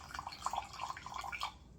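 Lime juice pours into a measure for margaritas, a faint trickle with small dripping and splashing sounds lasting under two seconds.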